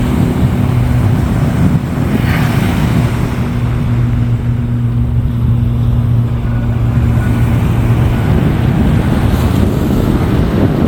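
Steady, rushing roar of ocean surf washing onto a Florida beach, continuous and fairly loud with a windy, blustery edge and no voices.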